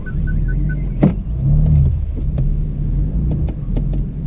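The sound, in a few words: BMW M4 S55 engine with anti-lag accelerating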